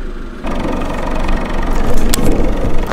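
Engine of a small Honda car idling, a steady close rumble that starts abruptly and holds loud throughout.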